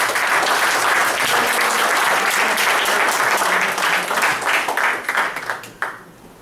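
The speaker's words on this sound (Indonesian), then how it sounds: "Sekali lagi boleh kita kasih aplaus." An audience gives a long burst of hand-clapping applause, dense and steady at first, then thinning into scattered claps before stopping abruptly.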